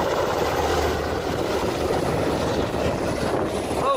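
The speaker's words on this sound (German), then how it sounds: "This PC-12 was following close behind a Black Hawk helicopter when it suddenly got caught in the helicopter's rotor downwash" Continuous loud broadband roar of a Black Hawk helicopter's rotors with a PC-12 turboprop plane close behind, caught in the rotor downwash during a near miss; steady and unbroken with no voices.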